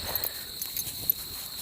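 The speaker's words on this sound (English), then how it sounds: "Let me try to get some of these crickets." Crickets chirping in a wooded park in Ohio, a steady high trill that runs unbroken and fairly faint, with a few soft rustles and footstep-like taps from someone walking nearby.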